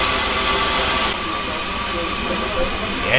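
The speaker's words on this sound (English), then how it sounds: "the little tank engine and its train comes in" A small steam tank engine and its train arriving at a station on the West Somerset Railway, heard as a loud, steady hiss and rumble that stays close throughout.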